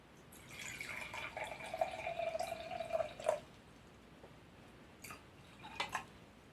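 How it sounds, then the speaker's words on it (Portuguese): Water poured from a container into a drinking cup, a thin bright trickle running for a few seconds before stopping, followed by a couple of faint clinks and drips. "a gente vai precisar colocar água em um dos copos"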